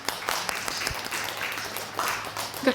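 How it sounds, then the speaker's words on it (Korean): A congregation applauds during a Korean Sunday church worship service, with steady moderate clapping and a brief swell near the end. "하나님께 영광의 박수 올려드립시다"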